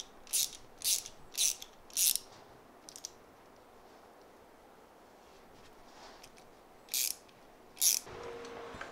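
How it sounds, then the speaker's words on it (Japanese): Ratchet clicks while removing the bolts of the brake caliper adapter on an aluminium road bike: short crisp bursts close by, four in quick succession, then a pause and two more. "このアダプターもボルトで止まっているので外します。"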